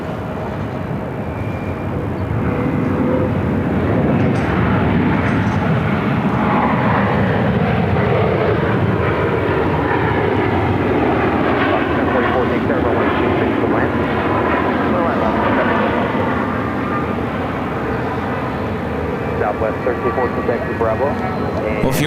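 A Southwest Boeing 737 MAX 8 arriving at Phoenix from Boise, its jet engines a loud, sustained roar with whining tones that sweep in pitch as it passes close by, with voices talking over it.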